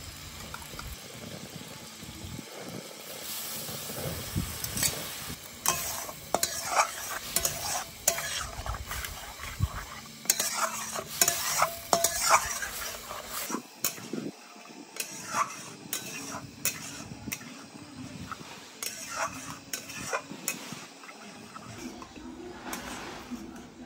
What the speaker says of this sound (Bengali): এবার মশলাটা একটুখানি আমি একটু কষিয়ে নিই